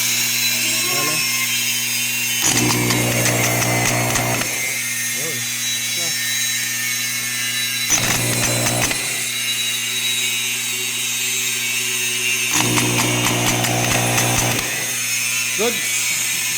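A car starter motor with a fault that keeps it running nonstop and won't switch off, heard as three loud whirring, grinding bursts over a steady background hum.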